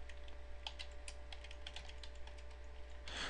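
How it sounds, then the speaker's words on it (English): Typing on a computer keyboard, a quick uneven run of light key clicks, close and fairly quiet over a low steady hum, ending with a brief louder rustle. "go ahead and type in whatever you want"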